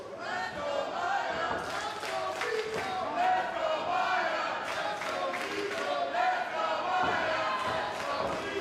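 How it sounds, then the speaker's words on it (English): A wrestling crowd at a West Coast Pro and Prestige Wrestling show cheers and shouts in a continuous roar, with scattered thuds, claps and louder swells rising throughout. "Crowd certainly picking their favorite here"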